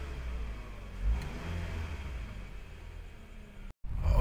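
A Toyota Estima ACR30 engine running and revving, a steady mid-pitched drone with a brief swell in the middle before it cuts out almost completely near the end and returns.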